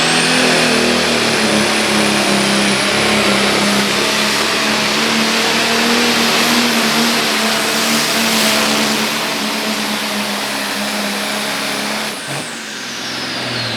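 A tractor-pulling engine from the mod turbo class, a smaller turbocharged engine, roars at sustained full throttle with a high turbo whine, loud and close, then fades near the end.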